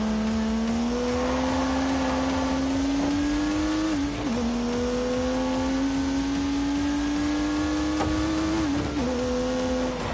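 Turbocharged 3-litre straight-six car engine in The Grand Tour Game racing video game, droning loudly and steadily as it pulls through the gears, with two brief dips at the shifts and the pitch climbing again after each.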